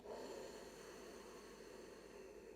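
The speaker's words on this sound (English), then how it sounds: "It is almost as if you're hearing the sound of the ocean coming from the back of your throat." A soft, steady rush of breath drawn through a constricted throat with the mouth closed (ujjayi yogic breathing), hissing like distant ocean surf, quiet and continuous.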